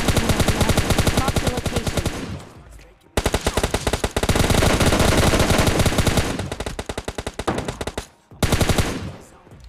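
Rapid automatic gunfire in the mobile shooter game PUBG Mobile Lite during a squad fight, loud continuous bursts of rattling shots with brief pauses between volleys, a voice faintly present beneath.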